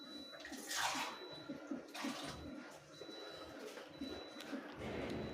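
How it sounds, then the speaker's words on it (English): Water is poured into a pot of gentle beef stew with peas, a steady splashing rush that swells and eases over several seconds, close and fairly soft, with no voices. "So I'm gonna add some more water."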